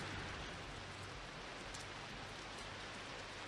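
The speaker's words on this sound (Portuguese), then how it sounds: "Chovendo muito aqui em Foz do Iguaçu" Heavy rain pours steadily in Foz do Iguaçu, a dense, even hiss of drops hitting surfaces throughout, with no voices.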